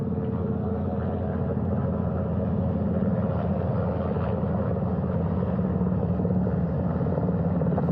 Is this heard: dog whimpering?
no